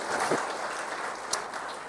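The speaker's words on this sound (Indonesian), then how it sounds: "Berikan tepuk tangan kita untuk Tuhan kita." A church congregation claps together in a steady, dense wash of applause filling the room, continuous throughout with one brighter clap standing out near the end.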